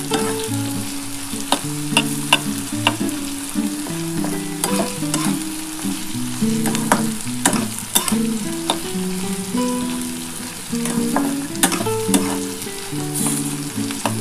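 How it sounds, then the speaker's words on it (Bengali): Sliced kundri (ivy gourd) frying with poppy seeds in oil, a steady close sizzle with frequent scraping and stirring of a spatula in the pan. "একটু লাল লাল করেই ভাজবে"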